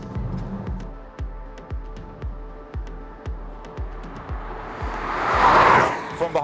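A Kia EV6 GT electric performance car driven fast on a tight, twisty race track, with repeated rhythmic whooshes and thumps as it corners, rising toward a louder swelling rush at the end.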